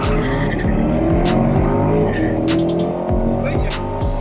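A sports car launches hard: loud engine revs rise and drop through quick gear changes, with bursts of tire squeal and clicking over the roar, close and continuous.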